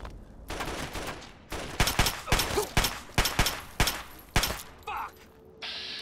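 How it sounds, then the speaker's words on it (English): Gunfire bursts and a grenade blast in the online game Fallout 76, a run of sharp, loud, evenly spaced impacts with a brief ringing tail near the end. "oh god, that was a grenade"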